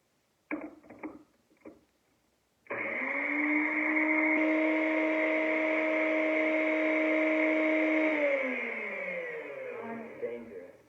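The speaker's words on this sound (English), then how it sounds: "So I'm going to turn this blender on." Kitchen blender switched on during a noise-level demonstration, a loud steady whirring drone that runs for several seconds and then winds down, preceded by a few brief clicks and handling knocks.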